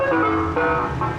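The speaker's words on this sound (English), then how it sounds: "Now what I'm seeing here is a drive-through ice cream truck." An ice cream truck at a UK modified car meet at night plays its jingle, a bright melodic chime that is loud, close and continuous throughout, with no talking.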